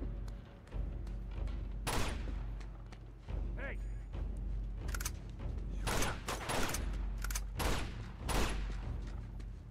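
Gunfire in the action video game Uncharted: Among Thieves, with several bursts and sharp shots scattered through a busy firefight, mixed with game noise and heard under a player's talk.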